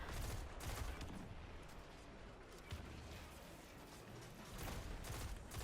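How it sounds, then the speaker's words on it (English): Rapid pulse rifle bursts in the Destiny 2 shooter during a solo Grandmaster Nightfall, dense repeated gunfire with explosions and combat effects, continuous and fairly loud throughout. "So now I'm trying to pop the shield and then just spamming the pulse rifle"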